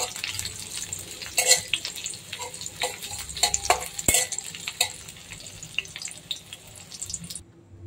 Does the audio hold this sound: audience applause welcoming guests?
no